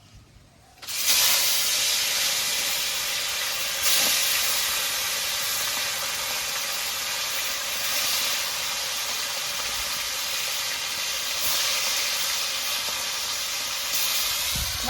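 Fish frying in hot oil in a wok gives a loud, steady sizzling hiss that starts abruptly and keeps up without a break, with no voices over it.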